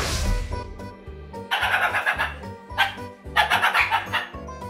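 A puppy yelps and squeals in repeated high-pitched bursts, close and loud, between low rhythmic thumps and rustling while action figures are unboxed.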